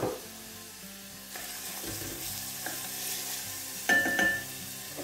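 A quarter of a finely diced white onion frying in extra virgin olive oil gives a soft, steady sizzle, with occasional scrapes and stirring clinks from a utensil against the pan.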